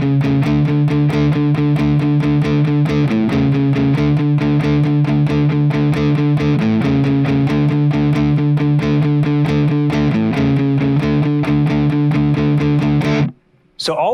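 Distorted electric guitar in standard tuning plays the main riff of a song, two chords alternating in a steady driving rhythm, loud and alone, stopping abruptly near the end.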